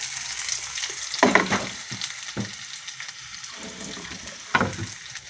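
Ginger and onion fry in a pan with a steady sizzle broken by a few louder stirring scrapes and clatters, close up and with no voices.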